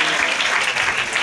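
A church congregation at a special fasting prayer meeting claps together in dense, loud, steady applause filling the brief moment.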